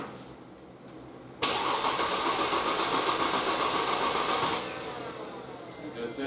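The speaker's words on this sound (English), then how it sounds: "Sits there and cranks, but it won't turn over at all." A Mercedes C230 engine cranks steadily for about three seconds with a fast, even whirring churn but does not start, preceded and followed by quieter background noise and talk.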